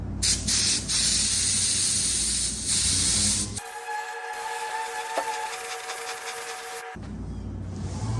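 Spray gun hisses epoxy primer coat onto bare metal in loud sustained bursts over roughly three seconds, then stops; a quieter tonal hum and background noise continue afterward, with no talking.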